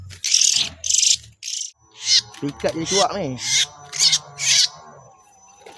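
An oriental magpie-robin calls during bird trapping in Jerantut, giving a series of loud, shrill, closely repeated bursts near the listener, with someone speaking Malay briefly in the middle.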